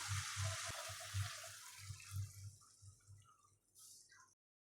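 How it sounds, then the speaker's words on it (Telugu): Water is poured into a cooking pot holding tomatoes and chillies, making a steady splashing gurgle that fades out after a few seconds. Low rhythmic bubbling runs underneath, with no voices. "ఇందులో కొంచెం వాటర్ కూడా వేసుకుందాం ఇప్పుడు"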